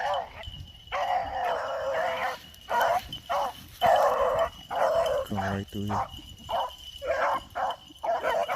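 A male pack of hounds bays and barks in repeated bursts while running on a trail, fairly near, with someone talking over them.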